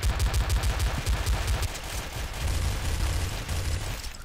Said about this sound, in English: Oh my god, they have machine guns,